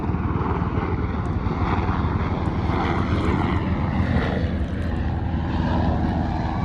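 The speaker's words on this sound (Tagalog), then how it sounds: "Helicopter." Helicopter passing overhead on Olango Island near Cebu, a loud continuous rotor and engine roar that stays steady and close throughout.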